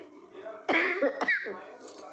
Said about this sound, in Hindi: खांसी पकड़ ली अब।